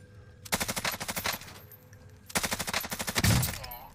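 Two loud, close bursts of rapid automatic fire from a 60-round gun in the video game Warzone, each about a second long with a short pause between.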